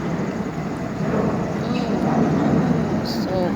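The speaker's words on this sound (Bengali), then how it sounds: "প্লেন যাচ্ছে উপর দিয়ে।" A fixed-wing airplane passes overhead outdoors near a pond with ducks, a steady broad rumble that swells slightly and holds throughout, with a faint high whine; a person talks over it.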